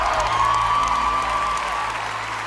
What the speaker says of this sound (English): A big round of applause for Amelie.